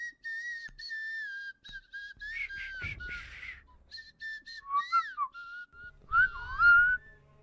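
A person whistles alone during an online Rainbow Six Siege session, a run of clear high tones in short repeated phrases, some held and some sliding up and down, fairly close with brief pauses between.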